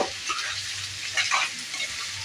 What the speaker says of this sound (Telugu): కొద్దిసేపు ఇలానే ఫ్రై చేసుకుందాము